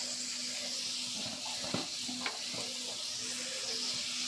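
Half a chopped onion frying in spiced masala with tomato for a Bombay duck fish curry, a steady soft sizzle with a couple of brief stirring scrapes, faint and close, no talk.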